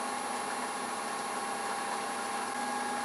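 A wood lathe spins a medallion ornament as a detail gouge rolls a bead, giving a steady, even whir with a thin high whine held throughout, close and continuous, with no voices.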